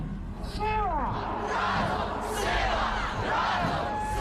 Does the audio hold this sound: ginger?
no